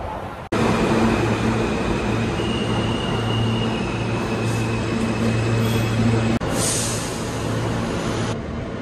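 Ride aboard a New York City subway E train: a loud, steady rumble with hum and rattling car noise, a brief drop near the start and a sharp jolt partway through, with no talk.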